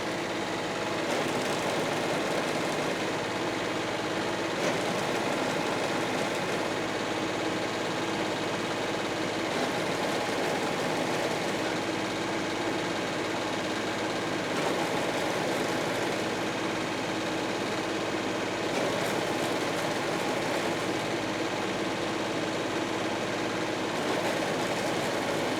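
A Kioti tractor engine idling with the throttle raised slightly, a steady continuous diesel drone heard up close with no talk.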